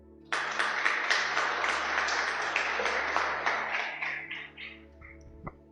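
Congregation applause in a church service, breaking out suddenly as a full, dense burst of many hands clapping, holding for several seconds before thinning into a few last scattered claps.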